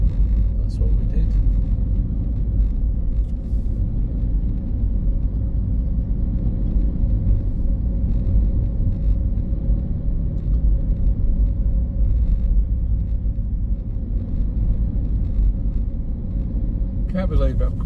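Interior rumble of a car driving along a scenic country road in the Yorkshire Dales, a steady low engine and road drone that runs continuously while someone talks over it.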